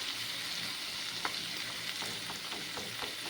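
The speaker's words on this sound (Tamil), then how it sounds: "வெங்காயமும் நல்லா கொஞ்சம் வதங்கட்டும்" Tomatoes and onions fry in a pan with a steady close sizzle, punctuated by several light scraping stirs of a spoon against the pan, with no voices.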